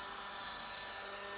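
Roban EC130 800-size scale RC helicopter climbing at full collective with a 1000 rpm head speed, giving a steady, continuous rotor and motor whine with a high tonal hum. It runs alone at an even, moderate level throughout.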